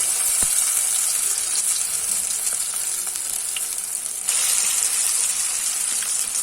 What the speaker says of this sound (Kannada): ಎಣ್ಣೆ ಕುದೀತಾ ಇದೆ. ನಾವೀಗ ಇದಕ್ಕೆ ನೀಟಾಗಿ ಒಂದೊಂದೇ ಕಬಾಬ್ ಪೀಸಸ್ ಅನ್ನು ಆ್ಯಡ್ ಮಾಡುವ.